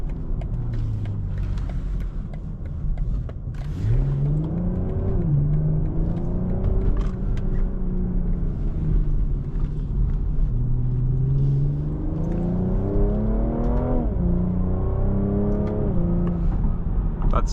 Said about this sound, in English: the revs will shoot up to give you some more opportunity to accelerate